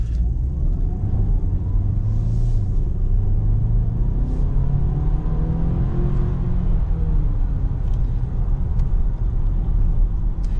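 An Audi Q5 55 TFSI e Quattro plug-in hybrid accelerates with both its petrol engine and electric motor working, heard from inside as a steady, loud low rumble with rising engine tone and road noise throughout.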